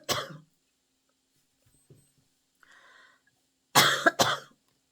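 One person coughs sharply at the start, then after quiet breathing and a faint throat sound lets out two more close, harsh coughs near the end.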